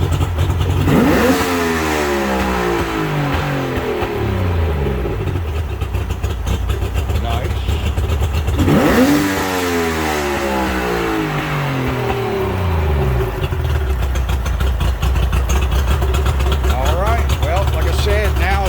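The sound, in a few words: Mercury 60hp outboard motor revving and idling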